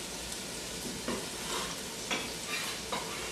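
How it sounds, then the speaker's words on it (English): Chopped shallots sizzle steadily in hot olive oil in a preheated pot for porcini risotto, a soft continuous frying hiss with a few light stirring scrapes, close and fairly quiet. "and now we're adding our shallots"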